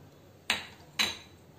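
Broken cashew pieces dropped into hot ghee in a pan for pineapple kesari, giving two brief sharp clinking hits about half a second apart, each followed by a short fading sizzle, with no talking.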